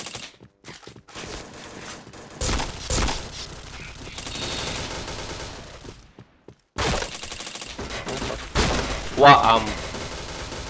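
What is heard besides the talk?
gunfire in video game Point Blank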